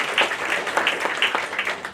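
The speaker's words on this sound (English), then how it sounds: "I want to give a round of applause for Jordan for all this work" A short burst of applause from attendees at a transit town hall, steady and fairly close, with a few sharper claps standing out.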